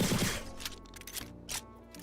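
Gunfire from a gun in the video game My Time at Sandrock, heard as a few separate sharp shots spaced irregularly over a low game background, with no one talking.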